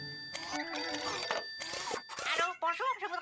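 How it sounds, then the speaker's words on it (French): A telephone rings in a French children's cartoon, a bright repeating electronic bell in short bursts, with a cartoon voice talking over the end. "Téléphone!"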